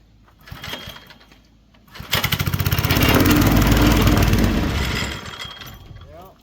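A plate tamper engine, running after being wetted, revs up at throttle into a loud, steady, rapid chugging roar that holds for several seconds and then eases off, with brief voices before it.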